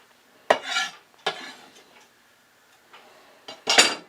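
Garlic and ginger are stirred in hot sesame oil in a pan. Four distinct bursts of clattering utensil against the pan come with a light sizzle between strokes, close and fairly loud, with no talking.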